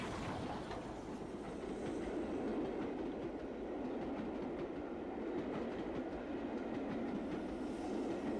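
Steam locomotive 777 hauling a train on the climb toward the Chilterns between Gerrards Cross and Beaconsfield, heard as a steady, loud rolling rumble with rhythmic wheel clatter and exhaust beats throughout, no voices.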